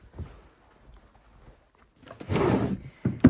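A pyjama drawer slides open or shut with a short wooden rumble and a sharp bump at the end, heard alone and fairly close during laundry sorting at home.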